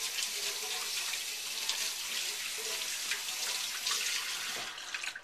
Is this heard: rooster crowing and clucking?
no